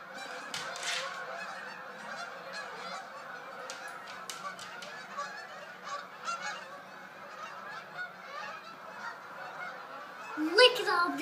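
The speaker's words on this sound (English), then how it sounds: "Look at all the geese." A large flock of geese honks continuously at a moderate distance outdoors, overlapping calls rising and falling with a louder burst near the end, while a person speaks softly now and then.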